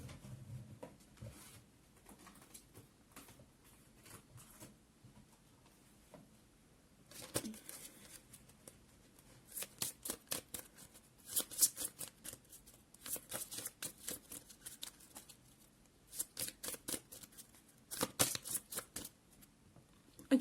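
Tarot cards being shuffled in bursts of quick riffling, quiet at first and then louder, repeated several times with brief pauses between.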